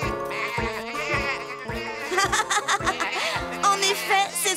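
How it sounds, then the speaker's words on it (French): Repeated bleating of sheep in a cartoon, wavering cries in quick succession with voices talking alongside. "Les moutons sont tous là."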